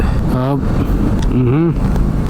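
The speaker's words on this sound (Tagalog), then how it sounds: "Ayan yung traffic idol bumper to bumper." Dense bumper-to-bumper road traffic heard from a motorcycle on the road from Potrero, Malabon toward EDSA southbound: a constant loud rumble of engines with two rising, wavering tonal swells, likely engines revving or horns.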